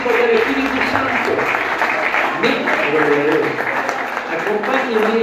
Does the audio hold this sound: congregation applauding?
yes